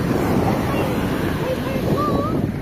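Ocean surf rolling in at a beach at sunset, a continuous broad wash of wind and water roar, with faint voices and a brief whistle-like tone over the steady noise.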